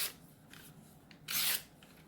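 A blade of S110V steel is sharpened on a 240-grit aluminum oxide stone, a Smith's 8-inch combination stone; soft raspy strokes come close and quiet, with one louder, longer scrape near the end.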